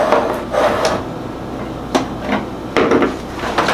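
A slow cooker slid and set down on a kitchen counter while other items are shifted around, giving several close wooden knocks and clunks spaced over a few seconds with no talk.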